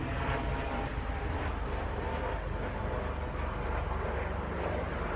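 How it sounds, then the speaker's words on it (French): A helicopter approaching overhead, heard as a steady, loud broadband rotor and engine roar with low rumble that fills the scene throughout, with no voices over it. "Il y a justement un hélicoptère qui vient."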